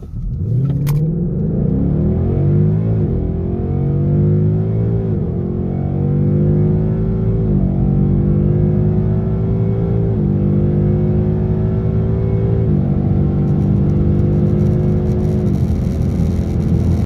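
A car accelerates hard in S-mode transmission on a performance test run, with a loud, close engine rising in pitch through several upshifts and each gear change dropping the note before it climbs again.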